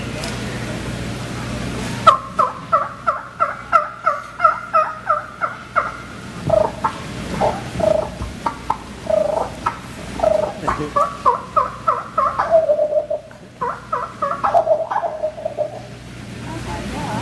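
A hunter's turkey call imitates a wild turkey gobble in loud, rapid bursts of rattling yelps, repeated in quick runs that rise and fall across the clip, with a faint voice near the start.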